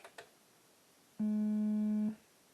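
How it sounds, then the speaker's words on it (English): A steady sine wave tone from an Arturia MiniBrute 2 synthesizer sustains for just under a second after two faint clicks, then stops cleanly. It sounds pure and fairly loud, with a few faint overtones. "It's got a sine wave,"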